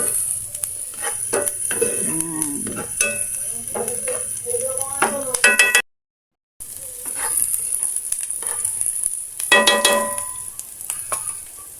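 Onion sautéing in a hot pan hisses with a strong steady sizzle, broken by spatula stirs and clinks against the pan, with a brief silent gap midway and someone speaking softly at times.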